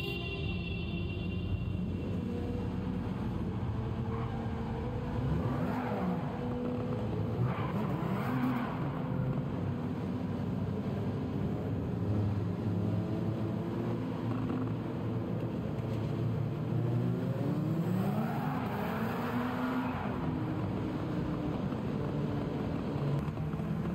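A 600 hp turbocharged K24 engine in a five-speed Honda EG Civic in Gran Turismo 7, revving and shifting through gears at high pitch with repeated rising sweeps and occasional tire squeal, no speech.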